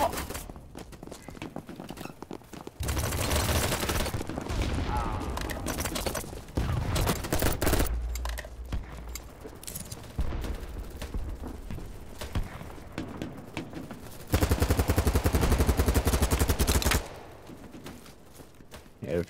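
Gunfire in the shooter game BattleBit Remastered, loud bursts of rapid shots in several long volleys separated by quieter stretches, with no talk.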